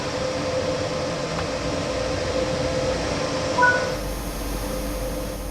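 A BR185.2 electric locomotive in Train Sim World 4 on the Salzburg–Rosenheim route gives a steady rumbling drone with faint tonal whine, continuous and fairly loud, shifting near the end to a lower hum.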